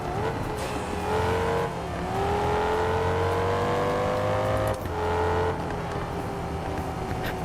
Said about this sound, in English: I kinda like how the Strata sounds